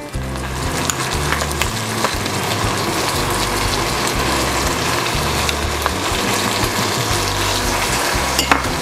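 Onion and chorizo frying in a pot, a dense continuous sizzle and crackle close by, with occasional clinks of a utensil against the pot and no talk.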